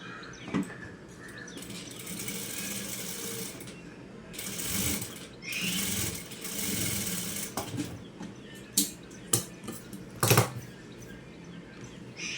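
Domestic sewing machine stitching a katori blouse from a saree fabric, heard as intermittent whirring runs and ratcheting mechanical bursts, fairly close, with sharper clacks near the end and no speech.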